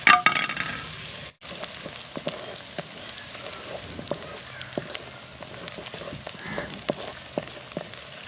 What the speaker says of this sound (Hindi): प्याज को अच्छी तरीके से गोल्डन ब्राउन करेंगे